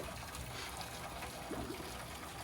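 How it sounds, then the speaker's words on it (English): Pot liquor from stewed collard greens draining into a kitchen sink, a faint, steady trickling wash of water that runs evenly throughout without any talking. "All that good pot liquor water going down the drain."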